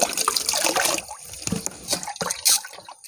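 Water running and splashing during rinsing while mixing homemade hydroponic AB fertilizer, a loud close gushing wash with bursts of sloshing.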